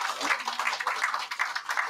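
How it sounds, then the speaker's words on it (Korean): An audience claps steadily at the opening of a gubernatorial preliminary candidate's election campaign office in Korea, a dense, even patter of many hands, close and sustained throughout. "모두를 위해서 격려의 박수를 함께 보내주시기 바랍니다"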